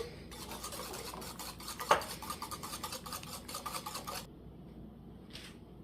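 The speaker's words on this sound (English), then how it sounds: "that's 1 egg that I'm just gonna stir in" An egg being stirred into chocolate peppermint cookie dough in a bowl, a rapid rhythmic scraping and rubbing of a utensil against the bowl that stops abruptly, with one sharper knock early on.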